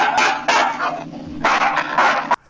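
Puppy in a scene from Star Trek: The Original Series episode The Enemy Within, giving a few loud, close barks and yips in short bursts separated by brief pauses.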